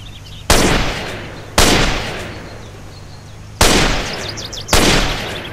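Four separate rifle shots boom in a modded GTA San Andreas game, each a sharp loud crack with a long fading tail, spaced irregularly, with no talking over them.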